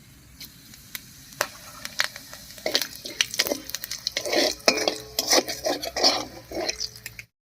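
Whole garam masala and cumin fry in oil left over from frying pointed gourd. A light background sizzle sits under busy, close clinks and scrapes of a spoon against the pan that grow denser partway through, with no speech.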